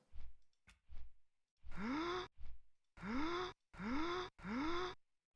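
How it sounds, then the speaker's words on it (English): A video game's low-health warning, a repeated breathy gasp, plays four times in an even rhythm, each a rising drawn-in breath, with shorter soft breaths before them, clear and alone. "it plays that sound, the gasp"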